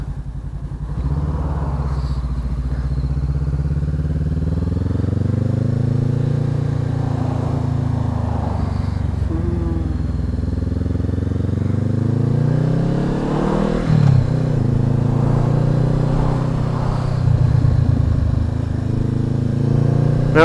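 A Honda CB500X motorcycle ridden on a coastal road between Half Moon Bay and Santa Cruz, its engine droning loud and steady throughout with gentle rises and falls in pitch as the rider eases the throttle, heavy wind rumble underneath.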